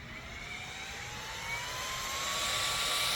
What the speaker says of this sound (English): I got my little fan here with the strap on, so